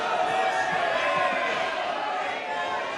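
Dense, steady clapping fills a parliament chamber from start to finish, a broad wash of many hands with a faint murmur of voices mixed in.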